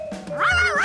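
A cartoon dog gives a single short, high-pitched bark close by, brief and sharp.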